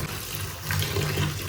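Running water pours steadily over food being rinsed of soil, a continuous close splashing gush without any voices.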